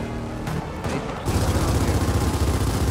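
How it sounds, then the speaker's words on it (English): Gunfire in the video game Gears of War 4, where a quieter stretch gives way to a dense, loud, rapid burst of shots that carries on steadily to the end. "Why are you shooting at me, Marcus?"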